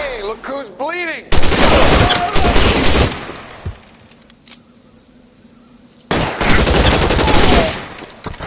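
Bursts of gunfire in L.A. Noire, loud and dense shooting in two clusters with a quieter gap between them, after a short tonal sound at the start.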